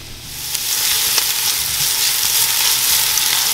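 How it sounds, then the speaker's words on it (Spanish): Onion and bay leaves fry in a pan, giving a steady, loud, close sizzle with light crackling throughout and no voices. "Y las doramos muy bien, la cebolla."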